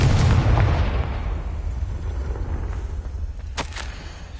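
Confringo fire spell blast cast in Hogwarts Legacy, a loud booming burst at the start that rumbles and fades over a few seconds, with a couple of sharp magical crackles near the end.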